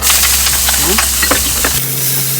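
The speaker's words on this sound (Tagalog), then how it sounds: "So, ngayon, mainit na, pwede na tayong maggisa. Ilagay na ang ating onions." Onions sautéing in hot cooking oil in a pan, a loud steady sizzle with a few stirring scrapes, the frying hiss running continuously and close throughout.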